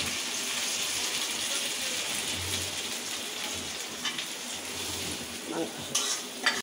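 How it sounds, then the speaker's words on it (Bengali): Steady, close sizzling of onion, garlic and ginger paste frying in hot oil, with a few sharp pops and scrapes near the end. "মশলাগুলো আমি একটু তেলের মধ্যে কষিয়ে নিচ্ছি।"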